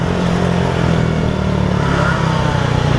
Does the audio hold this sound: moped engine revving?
yes